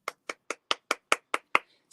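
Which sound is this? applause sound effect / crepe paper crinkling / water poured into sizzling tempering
applause sound effect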